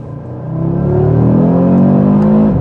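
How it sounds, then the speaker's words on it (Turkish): An Audi RS3 Sportback in RS mode, driven in Dubai, with its engine revving up under acceleration: a loud, close, rising growl that climbs steadily in pitch, with no speech. "Şimdi biraz gaza basacağım."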